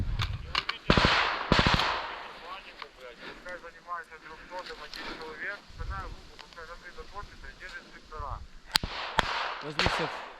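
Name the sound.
gunfire during combat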